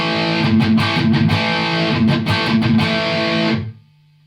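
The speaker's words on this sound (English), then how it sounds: "The GX100 Distortion." Saturated electric guitar chords through the distortion model of a Boss GX100 multi-effects processor, strummed rhythmically and loud, sustaining heavily before cutting off into a brief low hum.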